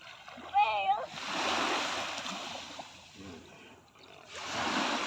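Sea water at a beach washes and splashes in broad, hissing bursts, close and fairly loud, with a voice and a shout from people talking at the start.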